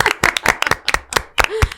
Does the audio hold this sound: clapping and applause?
yes